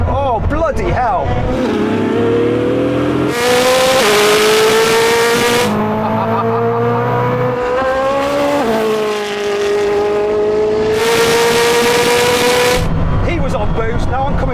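A Bugatti Chiron and a Koenigsegg Jesko accelerate hard in a rolling race from 100 km/h in third gear, loud rising engine notes climbing through gear changes with a roaring wind rush between shifts.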